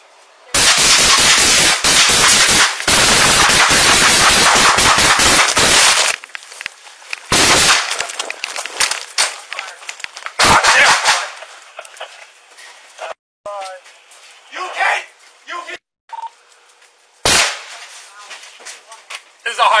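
High-powered rifle gunfire erupts during an ambush on police, a rapid barrage of loud sharp cracks over the first six seconds, then scattered single shots later amid shouting voices and radio chatter.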